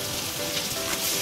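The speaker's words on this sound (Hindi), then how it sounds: "प्याज को हल्का सा फ्राई करना है ब्राउन होने तक" Onions sizzle steadily in hot oil in a pan with curry leaves and chillies for a prawn aloo curry; a dense, even frying hiss with no talk.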